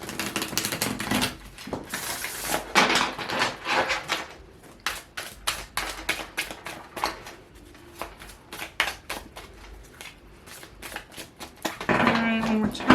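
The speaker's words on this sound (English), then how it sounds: "Just want to make sure I shuffle" A deck of tarot cards is riffled and shuffled again and again, a rapid, crisp flutter of card edges close up that comes in dense bursts and short riffles, with a faint voice near the end.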